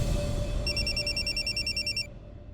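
An indoor telephone rings in a series of rapid electronic trilling bursts over a low background hum, then falls silent as if picked up.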